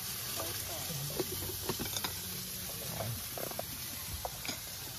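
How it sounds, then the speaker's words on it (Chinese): Food frying in a pan on a camping trip, with a steady close sizzle and scattered crackling pops throughout. "要 把 它 全 部煎下来"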